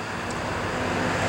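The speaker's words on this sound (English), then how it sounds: "I got a very loud truck going by." A very loud truck rumbles past close by as a broad, steady roar of road noise that fills the whole moment, with no talk heard.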